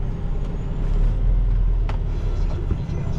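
A large Super C Renegade RV motorhome backing up, its engine a steady, heavy low rumble throughout, with a short burst of hiss partway through.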